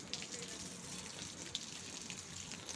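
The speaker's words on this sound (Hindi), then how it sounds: "पौधे में पानी डाल रही हूँ।" Water poured onto potted flower plants at home, a continuous soft splashing and trickling stream with occasional drips, close by and steady, without talk.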